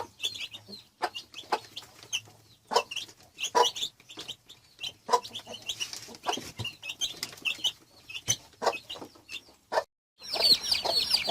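A broody hen with her chicks makes short, scattered clucks amid thin peeping chirps and occasional wing flutters, close by, with a busier burst of chirping at the end.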